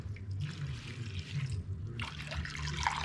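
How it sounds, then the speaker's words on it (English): Water splashes and gurgles as it is poured into a crock pot holding beef tongue and onion, a continuous close liquid rush with sloshing bursts toward the end. "gonna add some water"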